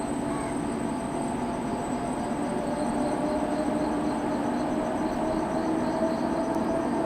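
The Sabari Express speeds up in Train Simulator, a steady low rumble of engine and rails with a high whine running through it. The sound holds at an even loudness throughout, with no voices.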